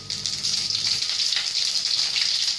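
Mustard seeds, cumin and fenugreek sizzle in hot oil in a home kitchen, a close, continuous bright hiss and crackle that holds steady throughout with no talking.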